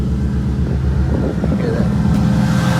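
Ford Coyote V8 with a 76mm single turbo, running close and loud with a deep, rough low-frequency rumble and some wind buffeting over the microphone.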